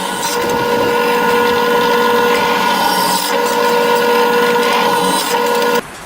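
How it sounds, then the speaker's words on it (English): A power drill with a 9/64-inch bit whines steadily and loudly at a constant pitch for several seconds while drilling holes in metal, then abruptly cuts off near the end. "We're going to use the same 9/64 drill bit for that."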